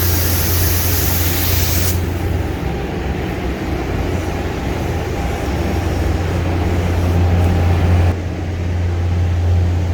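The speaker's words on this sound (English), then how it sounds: "let's get spraying it" A spray gun spraying primer on a car hisses continuously in a steady, close rush, briefly pausing and resuming, over a low droning hum.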